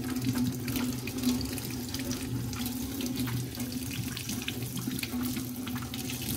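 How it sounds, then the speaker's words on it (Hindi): Vegetables are rinsed under a steady stream of running tap water in a kitchen sink, the continuous splashing flow loud and close with no talk. "हम इनको अच्छे से अब रनिंग वाटर में धो लेंगे"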